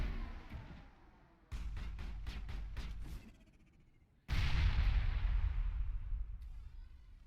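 Grenade blasts in the Mass Effect video game, two heavy booms with a burst of rapid crackling pops between them, each explosion rumbling and fading over a couple of seconds, loud and close with no speech.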